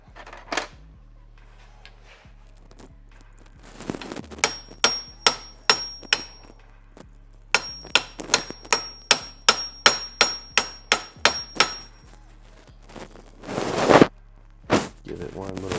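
A hammer taps repeatedly during a rebuild of a Honda Civic Si K-series EP3 five-speed transmission, sharp metallic strikes in quick rhythmic runs with pauses between, close by with some talk.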